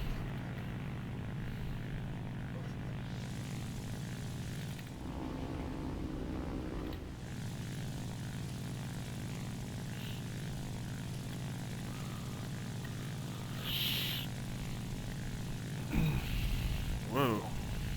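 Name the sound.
Ki-84 propeller fighter plane engine in flight, from a video game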